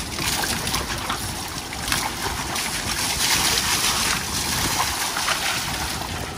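River water splashes and sloshes steadily while a JCB 3DX and a John Deere tractor are washed in the Betwa River, a broad, continuous churning wash up close.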